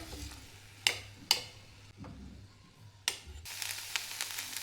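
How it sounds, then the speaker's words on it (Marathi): Corn kernels roasting in oil in a pan for corn chaat: a soft sizzle under a few sharp spoon scrapes and clicks, ending in a brighter burst of frying hiss. "तेलामध्ये थोडीशी भाजून घ्यायची"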